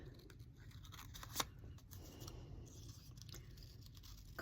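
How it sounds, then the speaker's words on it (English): Scissors cut purple paper in broad flowing strokes, a faint crisp snipping and rustle with one sharper snip near the start, quiet and close with no talk. "It's much easier to move your paper than it is to move your scissor."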